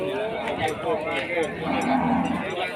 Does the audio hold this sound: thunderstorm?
no